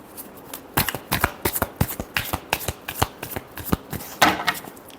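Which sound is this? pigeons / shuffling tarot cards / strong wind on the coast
shuffling tarot cards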